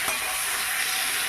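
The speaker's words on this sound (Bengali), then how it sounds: "একটু ভালোভাবে নেড়ে চেড়ে আমি এটা কষিয়ে নেব।" Boiled potato and papaya being stir-fried in a pan give a steady, close hiss of sizzling oil, with a faint stirring scrape near the start.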